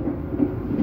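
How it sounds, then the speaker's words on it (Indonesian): Inside the rearmost executive car of the Argo Parahyangan train, running between Bekasi and Jatinegara, a steady low rumble of wheels on rail fills the space, with faint rhythmic clatter and no voices. "Kali ini saya berada di eksekutif 4 kereta api Argo Parahyangan, rangkaian kereta paling belakang ya teman-teman."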